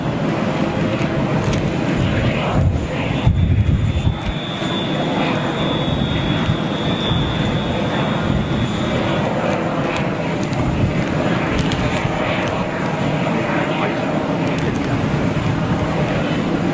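A British Airways jet airliner on final approach makes a steady, broad engine roar that holds for the whole stretch, heard from outdoors at some distance with no clear talk.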